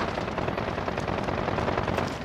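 Video game gunfire rattles in dense, continuous bursts, loud and close, like rapid machine-gun fire filling the whole moment without any speech.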